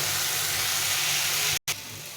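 Spice paste with tomato frying in oil in a pan for a fish curry, giving a steady, loud broadband sizzle that cuts out for a split second and then resumes slightly softer.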